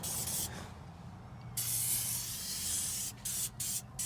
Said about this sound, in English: So of course, spray the seat down.